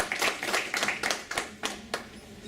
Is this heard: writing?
no